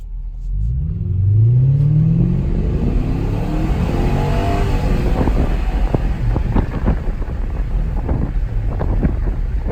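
A 1998 Lexus GS 400 accelerates hard from a standstill with traction and stability control switched off, its engine note climbing loud and close amid heavy wind buffeting, with rapid gear-change surges through the run.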